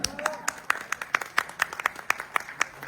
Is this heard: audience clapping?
yes